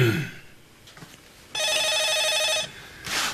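A telephone bell rings in one steady, trilling burst for about a second, close and clear, after a brief quiet stretch.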